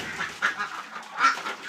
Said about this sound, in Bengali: হাঁসগুলো ঘরে বাঁধা আছে